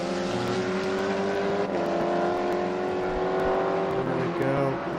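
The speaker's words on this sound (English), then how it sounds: "That's such an incredible car, that Audi R8 LMP machine." An Audi R8 LMP prototype race car at Sebring, its engine note droning and rising steadily as it runs past, loud and continuous under commentary speech.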